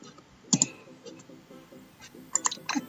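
Computer keyboard keys pressed while running a query in MySQL Workbench, a few sharp close clicks early and a quick cluster of taps near the end, over quiet room tone.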